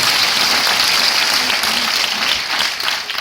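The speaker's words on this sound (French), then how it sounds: "Un petit peu d'applaudissements pour eux." Audience applause at a film presentation by Wim Wenders of "Le Sel de la Terre", thanking a supporting association; a loud, dense, continuous wash of clapping from a large room, steady throughout and tapering slightly at the end.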